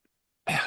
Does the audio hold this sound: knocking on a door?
no